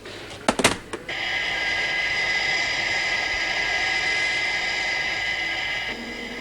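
A steady, whooshing aircraft engine drone, loud and sustained with a fairly constant tone, comes after a few sharp bursts of noise at the start and holds through most of the clip with no voices.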